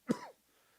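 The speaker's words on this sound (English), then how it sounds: "here comes the coughing" A single short cough or throat-clearing, sharp and close, then quiet.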